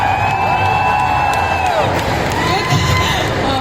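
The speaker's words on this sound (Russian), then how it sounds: "Ваши аплодисменты, друзья." An audience at a Comic Con Russia stage appearance by Mads Mikkelsen cheers loudly, with whoops, high shouting voices and a steady crowd roar sustained throughout, and scattered clapping buried in the noise.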